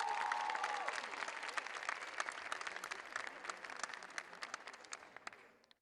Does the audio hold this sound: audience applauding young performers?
yes